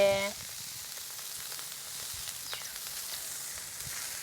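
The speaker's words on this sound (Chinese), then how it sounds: "水开下肉片儿，丢进去" Meat slices go into boiling water seasoned with chili bean sauce, hot sauce and chili powder after the mix was fried for red oil. A brief clatter is followed by steady bubbling and sizzling that continues quietly and evenly.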